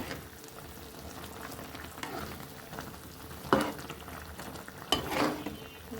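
Taro stolons with coconut and shrimp being stirred in a cooking pot, giving a soft steady simmering sizzle with a few louder scraping stirs near the middle and end, no talking.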